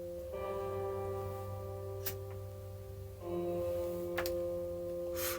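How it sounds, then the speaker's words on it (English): Electric guitar rings out a chimey, bell-toned melody drenched in reverb over a sustained drone note, with sparse bright picked accents and long ringing sustain, played alone without voices. "I've got that kind of bell tone chimey guitar"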